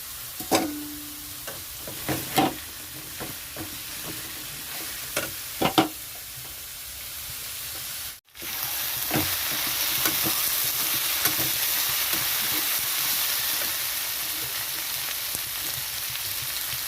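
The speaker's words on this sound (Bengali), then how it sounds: "কেটে রাখা আলুগুলো দিয়ে দিচ্ছি আলুগুলো না ভেজে এরকমই দিলাম" Chopped raw potatoes are stirred into a pan where a fish head is being cooked, bringing repeated spatula scrapes over a low sizzle that swells into a louder, steady frying hiss after a brief dropout.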